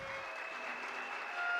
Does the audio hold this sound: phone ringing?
no